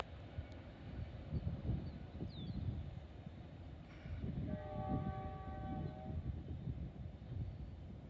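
Freight trains pass at Oak Harbor, Ohio: a faint, distant rumble of rolling cars with a soft horn tone sounding midway, heard from afar in quiet open air.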